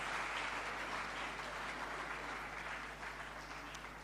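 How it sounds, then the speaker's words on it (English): Audience applause at a Ghanaian national economy address, a faint, distant wash of clapping holding steady over a low hum before slowly fading. "Please give him another round of applause."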